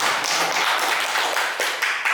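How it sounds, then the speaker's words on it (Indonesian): A group of people claps together in a room during a school training presentation, giving a short, dense burst of applause with no talking over it. "Tepuk tangan untuk Bu Nuneng."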